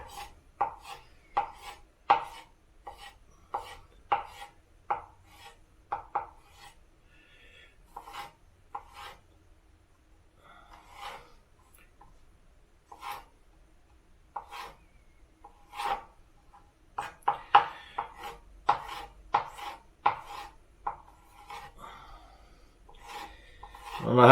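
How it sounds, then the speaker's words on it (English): Knife cutting tomatoes on a board for homemade salsa, a run of crisp, uneven chops close by that come in short bursts with brief pauses, growing busier toward the end, with no talking. "just go ahead and cut your tomato a little bit fine"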